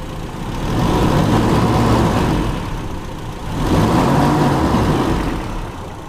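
Toyota Kijang engine with a Delco distributor vacuum advance, revved twice in a row, the note swelling and falling back each time, loud and close with no talking.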